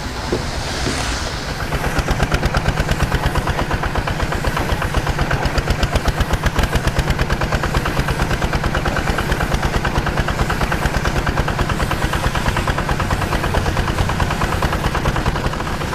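A concrete mixer truck's diesel engine chugging with a fast, even pulsing beat that builds after a quieter start and holds steady and close throughout, with no talking.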